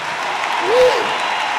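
A church congregation applauds loudly and steadily, a dense wash of clapping from a large crowd with a voice briefly rising over it midway.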